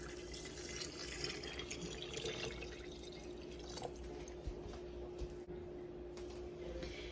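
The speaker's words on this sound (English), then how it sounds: "Now we're just gonna add ham broth." Ham broth is poured over dry beans and ham in a jar, a faint steady liquid trickle with light drips against a low background hum.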